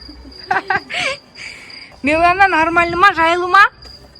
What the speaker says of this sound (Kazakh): Мына шегірткелер сәл шырылдап мида жеп жатыр